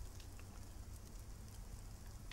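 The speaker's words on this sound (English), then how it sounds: "It just happened to be raining directly on my head." Rain in the video game It Lurks Below makes a soft, steady patter and hiss, faint and continuous, with no speech over it.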